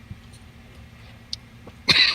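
One sharp, short sneeze bursts out at the end after a near-silent stretch with faint background noise and a small click.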